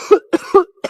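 A person coughs in a comedy drama scene: about four short, hoarse bursts in quick succession, close and fairly loud, with brief pauses between them.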